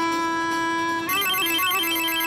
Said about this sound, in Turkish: Dur ben bir arayayım Enes'e.